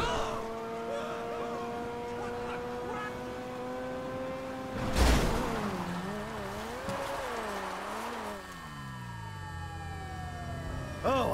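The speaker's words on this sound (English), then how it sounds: "Those sirens weren't for us." Sirens wail and whoop over traffic, rising and falling in tone, fairly distant, with a sudden thump midway and a steady rumble beneath.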